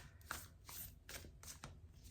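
A deck of tarot-style cards being shuffled by hand: a few distinct riffling bursts in quick succession, close and fairly quiet, with no voice.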